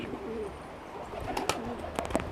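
A pigeon coos softly while chasing a female, with a few repeated rolling coos and some faint rustles and flutters close by.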